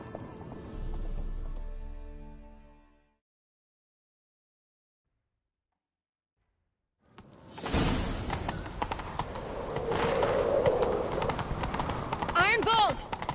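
Horse hooves galloping in a video game chase, a quiet pause giving way to loud, rapid clip-clop running under voices and swooshing effects, with a whinny near the end.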